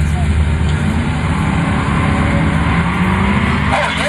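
Loud, continuous engine roar from an LS-engined mini-truck at a drag race, a heavy low rumble holding steady throughout with a commentator talking over it.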